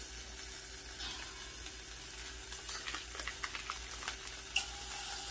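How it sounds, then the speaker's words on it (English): Chorizo sizzles and spits in a hot pot, a soft steady crackle with a few sharper pops and light stirring, fairly quiet and without talk. "You hear that sizzle? That's what you always want to hear whenever you incorporate anything into your pot."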